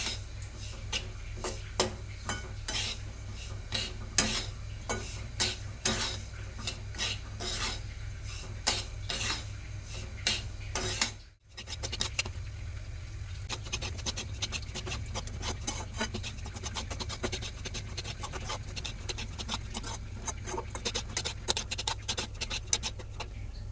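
Semolina roasting in a pan over a medium gas flame for mango sheera, stirred with a spoon that gives soft, repeated scraping ticks over a low steady hum, with a brief break midway.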